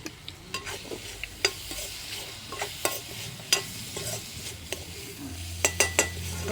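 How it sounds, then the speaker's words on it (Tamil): Curry stirred in a pan, a quiet background sizzle punctuated by a steady series of distinct spoon scrapes and light taps against the metal, fairly close. "இது இப்படி தான் கிண்டி வைக்கிறேன்."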